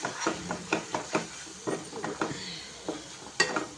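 Chili powder and salt being stirred into an egg masala curry, soft sizzling under a string of regular scrapes and light knocks of a spoon against the pan, close and fairly quiet.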